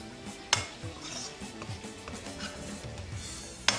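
Chicken with chicken masala being sautéed in a pot, faint stirring and scraping with a couple of sharp metallic clinks of a spoon against the pot.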